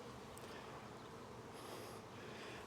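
Honey bees buzzing at a backyard hive in mid-May, a faint, steady, continuous drone without breaks, heard from close by in a quiet setting.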